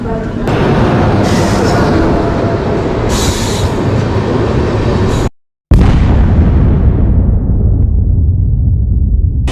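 Swatantrata Senani Superfast Express train rolling loudly and close, with a steady rumble of wheels and carriages and a brief dropout partway through.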